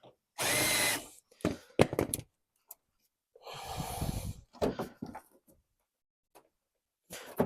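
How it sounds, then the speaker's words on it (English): Power drill boring out fasteners on a car's rear quarter panel for a widebody Mazda RX-7 build: two loud, sustained whirring bursts of about a second each, separated by sharp clicks and clatter of the tool. "Drill another one of these out."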